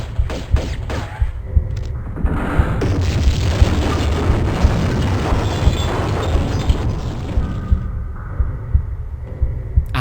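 An explosion is set off in the Tomb Raider video game, with a few sharp thuds leading into a loud, sustained booming roar that rumbles for several seconds and then fades.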